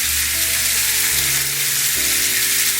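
Onions sizzling loudly in a frying pan alongside sous vide steak, a bright continuous hiss up close, with faint background music underneath.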